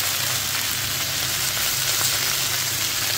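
Chicken wings sizzle steadily in a skillet with peri-peri and brown sauce, a close, even frying hiss that holds constant throughout with no voices.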